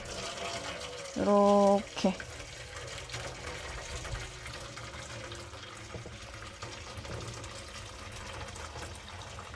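Boiling water pours steadily into a pot, a constant close rush of liquid, broken early by a brief electronic tone and a single spoken word.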